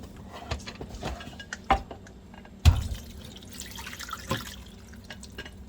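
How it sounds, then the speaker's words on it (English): Caramelized onions are poured from a crock into a strainer, giving wet drips, plops and a few soft thuds over a quiet background, close by, with no talking. "I'm going to pick up the crock and pour it in"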